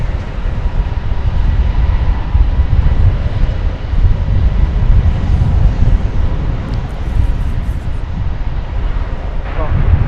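American Airlines flight 520 taking off from runway 18L at DFW, a steady, loud broadband jet roar dominated by low rumble that holds throughout without fading.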